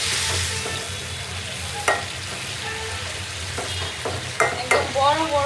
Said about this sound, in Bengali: তো এখন হচ্ছে মাছগুলো দিয়ে দিব, মাছটা দিয়ে কষানো হোক মশলাটা।